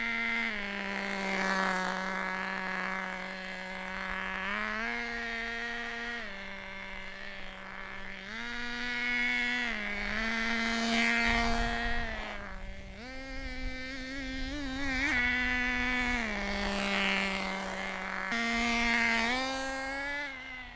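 A nitro RC car engine whines high and buzzy, its pitch rising and falling in repeated revs as the car is driven, moderately loud and close, with no talking.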